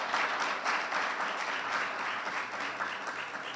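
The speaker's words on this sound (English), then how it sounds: "So can we give them a round of applause as well?" An audience at an annual meeting applauds in a steady, continuous wash of clapping that holds at an even level throughout, with no talking over it.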